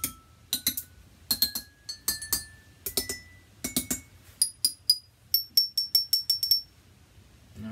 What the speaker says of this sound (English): So this is our glass orchestra pitch percussion.